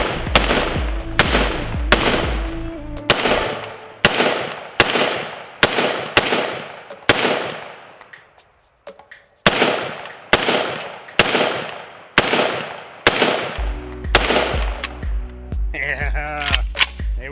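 AKS-74U rifle firing 5.45 ammo at an outdoor range, about twenty sharp, loud shots in a steady semi-automatic rhythm with one brief pause, each crack trailing a short echo.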